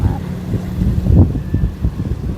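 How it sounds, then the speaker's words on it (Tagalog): Gusty wind buffeting the microphone outdoors on a rooftop facing Mayon Volcano, a low rumbling rush that rises and falls, with faint voices underneath. "Mahangin po dito ngayon sa amin."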